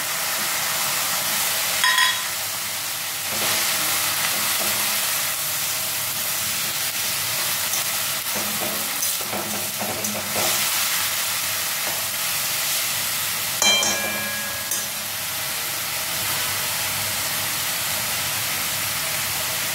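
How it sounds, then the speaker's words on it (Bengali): Green chillies frying in a pan for a greens (shak) dish, a steady loud sizzle throughout with occasional stirring scrapes and brief spatter bursts, no talking. "এখন কাঁচা লঙ্কাগুলো দিয়ে দিচ্ছি"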